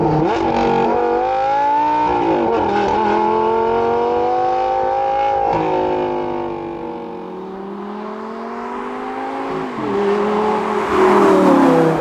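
A Lamborghini Gallardo LP570-4 Superleggera Edizione Tecnica with a V10 engine accelerating on a damp road, heard loud and close from inside, revs climbing through several gear changes with a strong rising harmonic whine and a brief lift before pulling hard again.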